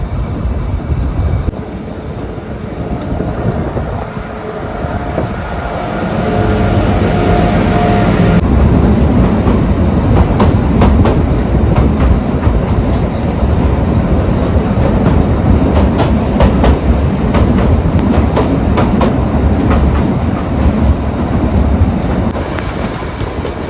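The Shimla–Kalka toy train runs through snowfall, with a loud, continuous rumble and rhythmic clatter of wheels on rails that grows steadier as it picks up pace.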